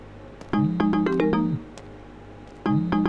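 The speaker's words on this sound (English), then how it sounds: "Answer the phone." A phone ringtone in the video game Fears to Fathom, Episode 5 Woodbury Getaway, plays in two bursts of clear melodic electronic tones separated by a pause, loud and close.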